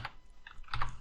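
A short burst of computer keyboard typing at a terminal: a few quick, close key clicks in an uneven rhythm, with no talking.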